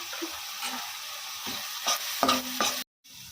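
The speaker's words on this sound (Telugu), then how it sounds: "ఇలా కొంచెం ఆనియన్స్ వేగిన తర్వాత కొంచెం పసుపు కూడా వేసుకొని కాసేపు వేయించుకోవాలి." Chopped onions with salt and turmeric sizzle in a pan for egg bhurji while a spoon stirs and scrapes them in a few distinct strokes near the end, then a brief silence.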